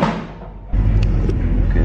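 A Corvette fitted with a new exhaust drives up, its deep engine rumble swelling suddenly and holding steady and loud close by, with no talking.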